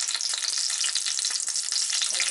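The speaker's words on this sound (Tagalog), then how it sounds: "Tapos, piprito ko lang siya, guys." Food frying in hot coconut oil in a home kitchen, a steady dense sizzle and crackle that runs without pause, close and fairly loud with no talking.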